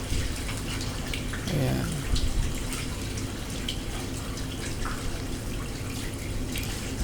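Water drains steadily from a catfish pond during harvest, a continuous broad rushing and splashing that runs loud and unbroken throughout, with someone speaking briefly over it.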